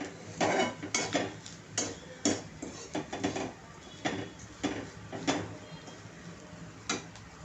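Thecha, a coarse chilli paste, being stirred and fried in oil in a pan over low heat: repeated light clinks and scrapes of a spoon against the pan in an irregular rhythm, quiet and close.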